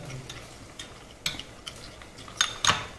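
A spoon stirs spices into curd in a bowl, with soft, quiet scraping that builds to a few sharper clinks against the bowl near the end.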